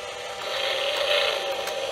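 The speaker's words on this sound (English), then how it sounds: "Yeah, crankshaft going around." A Haynes build-your-own V8 model engine turning over slowly, its crankshaft and rockers moving with a steady faint mechanical whirring and light ratcheting, close and continuous without talk.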